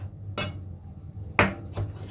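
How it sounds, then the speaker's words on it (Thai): Kimchi is chopped with a knife on a board for kimchi fried rice: three sharp, separate chops with short quiet gaps, fairly close and without talk. "จากนั้นเราก็จะมาหั่น หั่นหรือสับก็ได้นะคะ กิมจิจ้า"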